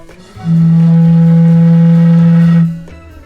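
A beer bottle holding a little water blown across its mouth gives one sustained, pure, breathy whistle-like tone, higher than an empty bottle, close and loud for about two seconds.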